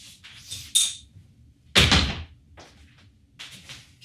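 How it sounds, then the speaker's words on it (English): A knock at the door of a home where a meal is being cooked: a sharp, loud burst of thuds near the middle, with softer household clatter before and after. "and she hears a knock at the door."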